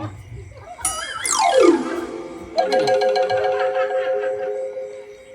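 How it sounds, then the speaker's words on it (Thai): A mobile phone ringtone plays loud and close: a bright melodic phrase with a sweeping tone, then a sustained chiming pattern, heard on its own. "เฮ้ยเฮ้ยเฮ้ยโทรศัพท์นี่ สักครู่"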